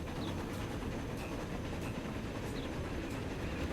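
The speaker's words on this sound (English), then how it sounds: "You've got a very, very beautiful train with your name on it." A steam train in the railway-building game Transport Fever, set around 1905, rolls past as a steady, fairly faint rumble with a rhythmic rail clatter and no talk over it.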